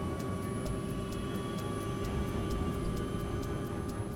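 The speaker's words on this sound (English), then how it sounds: "The engines spool up quickly." Airliner jet engines spool up for takeoff in cold weather, a steady low roar with a faint high whine, heard from inside the aircraft at moderate level with no talk.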